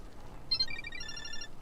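A phone rings in a karaoke horror video game: a short electronic ringtone with bright, repeating tones lasting about a second over quiet background ambience, with no voices.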